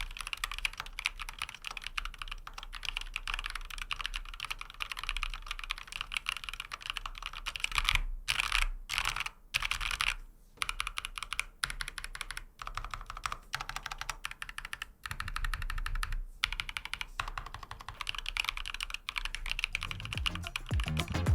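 Steady typing on a NocFree Lite split mechanical keyboard fitted with light white linear switches, a close, continuous patter of keystrokes with a few brief pauses, heard on its own.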